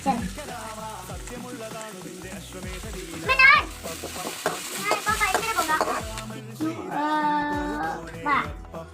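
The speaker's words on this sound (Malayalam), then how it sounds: "അതിട്ടങ്ങോട്ട് ഇളക്കാം. അതൊന്ന് മൂക്കട്ടെ നല്ലതായിട്ട്" Ingredients fry and get stirred in a pan with ginger, giving a low sizzle and occasional scraping strokes, while voices and children's chatter are heard in the background.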